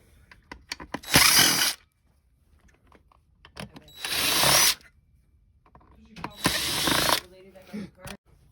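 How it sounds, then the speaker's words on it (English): Screws being backed out of a Uconnect 8.4-inch touchscreen car radio with a screwdriver: three bursts of ratcheting, clicking tool noise, close and fairly loud, separated by quieter gaps with small handling taps. "you're going to want to remove these 4 screws, and that's with a different tip"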